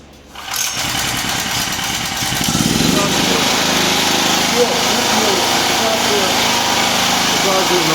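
A Hecht GG 6500 petrol generator, already run briefly, starts with the choke closed: a quick pull catches almost at once, then the engine settles into a loud, continuous drone that builds slightly and holds close by.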